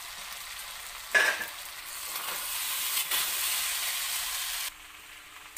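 Spiced Bengali-style masala khichuri sizzles and hisses in a pot as it is stirred, a sharp burst at first, then a steady, moderately loud frying sound that cuts off near the end, with no voices.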